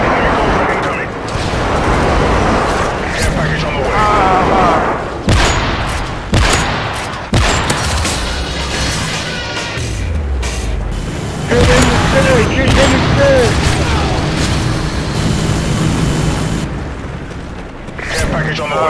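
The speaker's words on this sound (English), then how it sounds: "Friendly airstrike on the way." Modern Warfare 3 friendly airstrike, with heavy booms and explosions mixed with gunfire in loud, chaotic bursts across the scene, under frequent shouted talk.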